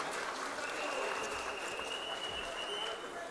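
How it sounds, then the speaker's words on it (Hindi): An audience applauds at a foundation-stone ceremony for the redevelopment of Bhubaneswar Railway Station, sustained clapping throughout at moderate distance, fairly faint, with a voice speaking over it. "एक विपुल करताली दे अभिवादन जणाइबा पई आमे विनम्र निवेदन बाढ़ुछु"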